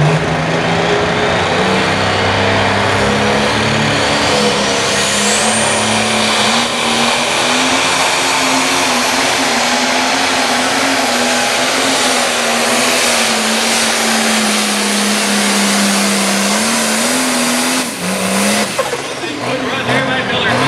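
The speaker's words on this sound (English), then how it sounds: "Just a 540 cubic inch tractor, but I'm telling you, he got a good hold of the track." Roar of a 540 cubic inch pulling tractor engine at a Pro Stock/Super Stock tractor pull, a loud, sustained droning rumble with shifting pitch across the run, while an announcer talks over it.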